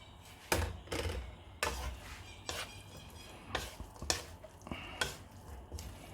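Vegetables and tofu are stirred in a pan for spring roll filling, with a string of distinct scraping, clattering strokes at an irregular pace over a faint background.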